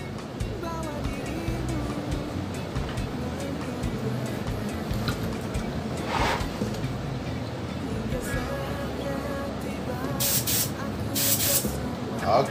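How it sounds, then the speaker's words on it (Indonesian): A steady, close hiss of WTP coating being sprayed onto a surface to darken it, running continuously with slight swells and a few sharper bursts near the end. "Jadi ini nanti kita semprotkan dulu,"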